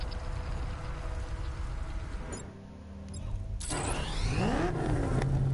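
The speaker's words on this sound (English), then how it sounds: "Time to bring in the car." The Batmobile from a Batman video game drives in, its engine rumbling, dipping briefly, then swelling into a loud revving surge with rising whine and mechanical clatter, no voices.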